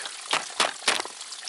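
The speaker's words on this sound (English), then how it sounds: "I went ahead and gave the rad a good flush." Water flushing through a car radiator, three short splashing gushes over a soft continuous trickle, close and alone.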